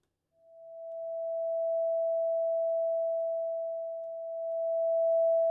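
Pure Data sine tone with smoothed amplitude: a steady pure mid-pitched tone fades in over about a second, then holds, dipping slightly and swelling back near the end.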